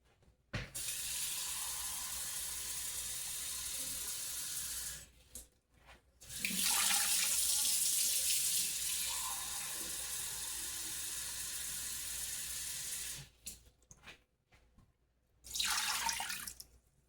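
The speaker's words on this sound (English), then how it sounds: "We're gonna put 2 cups of water." Water runs from a tap in steady streams, filling two cups for birria, with a few short pauses between pours and a final brief splash.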